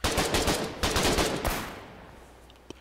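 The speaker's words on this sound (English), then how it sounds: "so a submachine gun" Submachine gun fire in the war game Foxhole, loud rapid bursts in the first half, fading into quieter scattered distant shots and a couple of sharp single cracks near the end.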